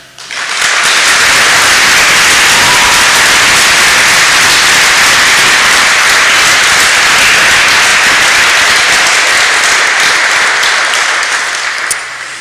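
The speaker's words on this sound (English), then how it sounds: "we should right now start today with a huge round of applause for Stacey and Rona." Loud, sustained applause from a large audience, dense clapping that swells in quickly and holds steady before tapering off.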